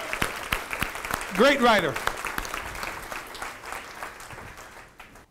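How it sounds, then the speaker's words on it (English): A university audience at a State of the University address applauds a writer named Armando, a broad wash of clapping that fades gradually, while a voice speaks briefly over it. "Let's give Armando a round of applause."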